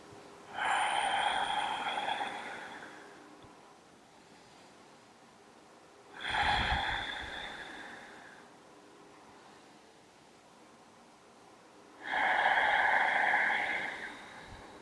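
Three slow, deep breaths during a yoga session in a modified child's pose, each a long, close, airy exhale several seconds long, evenly spaced with quiet pauses between.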